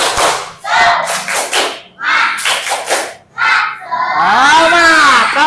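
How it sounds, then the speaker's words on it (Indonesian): A classroom group performs a spirit clap, bursts of quick rhythmic clapping mixed with children chanting in unison, sharp and close, broken by short pauses. "Tepuk semangat."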